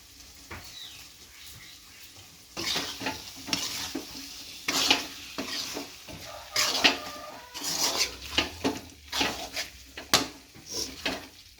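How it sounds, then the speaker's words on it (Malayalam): Eggs and ground black pepper stirred into egg roast gravy in a pan, with a spoon scraping and clinking against the metal in irregular strokes over a soft, steady sizzle, close and moderately loud. "നമുക്ക് മുട്ട ഇങ്ങോട്ടിട്ട് കൊടുക്കാമേ. ഇച്ചിരി കുരുമുളക് പൊടി ഇടാമേ."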